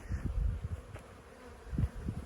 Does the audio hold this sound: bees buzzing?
yes